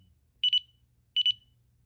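Two short bursts of rapid high-pitched electronic beeps from a motorcycle disc brake lock's anti-theft alarm warning when moved, each a quick triple chirp, spaced about a second apart over a quiet low rumble.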